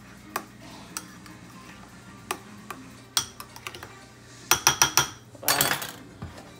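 A spoon stirs chopped tomato with a little salt and minced garlic in a bowl for homemade pizza sauce, giving scattered light clinks and ticks that quicken into a cluster of sharper knocks near the end.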